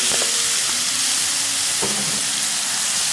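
Chicken pieces sizzling in about a tablespoon of hot oil in a frying pan, a loud steady crackling hiss with a couple of faint knocks, no voices.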